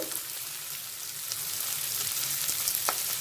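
Cashews and garlic frying in a pan for a chicken bharta, giving a steady close crackling sizzle with a few sharper pops, heard alone without voices.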